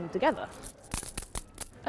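A few metallic clinks ring out in quick succession after a short vocal sound, light and close, like coins dropping together.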